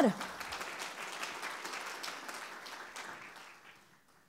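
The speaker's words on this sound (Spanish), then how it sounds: "Denle un aplauso a su Señor." A church congregation gives sustained applause, dense clapping that holds steady and then gradually fades away.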